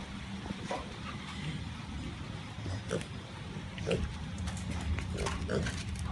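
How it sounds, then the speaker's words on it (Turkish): Soft, intermittent grunts and snuffles from a piglet over a constant noisy background, with faint rustling and occasional clicks. "bu arada domuzun ismi Obrix"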